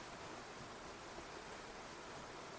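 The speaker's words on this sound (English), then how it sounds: "the sound of crashing water overpowers my voice" Steady roar of crashing water fills a video game cave, a dense, even wash of noise with no breaks, quiet and continuous with no voice over it.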